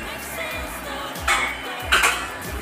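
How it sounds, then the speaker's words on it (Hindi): A knife slicing a small onion on a board for spicy raw mango chutney, giving several soft chopping taps, two sharper clacks standing out, close and moderately quiet with no talk. "प्याज काट रही है"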